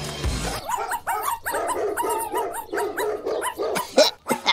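A cartoon dog barks in a rapid, steady series of yaps and bow-wows, close and loud, with a few whimpering yips near the end.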